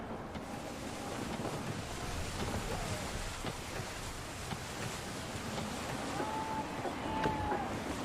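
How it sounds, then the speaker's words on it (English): Gusty wind at sea rushes steadily in Assassin's Creed III, a broad whooshing roar blended with waves and creaking ship sounds, while a faint voice talks underneath. "Gusty winds can be difficult to manage."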